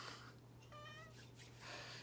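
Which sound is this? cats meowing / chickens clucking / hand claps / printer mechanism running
cats meowing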